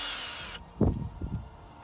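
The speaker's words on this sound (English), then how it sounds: "grab the drill because it makes my life a lot easier" A power drill whirs steadily on the rear top bolts of a Jeep Wrangler JLU Rubicon, then cuts off abruptly, followed by a couple of soft knocks and handling sounds.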